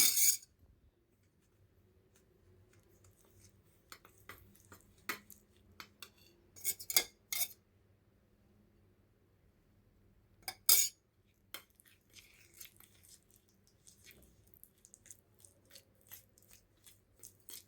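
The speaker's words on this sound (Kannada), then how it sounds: "ಇದಕ್ಕೆ ತುಪ್ಪ ಹಾಕ್ಕೊಂಡು ಚೆನ್ನಾಗಿ ಕಲಿಸ್ಕೋಬೇಕು" A spoon stirs rice flour and ghee in a bowl for chiroti dough, giving scattered light scrapes and clinks separated by quiet pauses, close and fairly soft.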